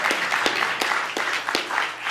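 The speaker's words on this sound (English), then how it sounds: "let's give them a round of applause." A small group applauds members of a COVID-19 compliance team, with loose, uneven clapping and distinct individual hand claps standing out close by.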